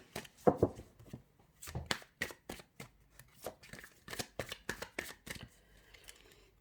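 Oracle cards being shuffled for a reading, a run of crisp riffling slaps and flicks that come in quick irregular bursts, close and clear with no voices.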